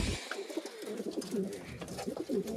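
Pigeons coo softly and repeatedly in a coop holding about forty-two birds, the low burbling calls overlapping at close range against a light background hiss.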